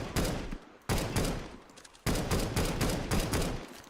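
Automatic gunfire in Counter-Strike: Global Offensive rattles out in three sharp, loud volleys of rapid shots separated by brief pauses.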